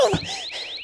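An alarm goes off in a short burst of rapid, repeating rising electronic whoops, loud and close, starting with a brief lower tone.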